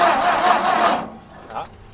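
The engine of an abandoned tractor with an updraft carburetor cranks hard for about a second, loud and close, then fades into a quiet lull while someone speaks.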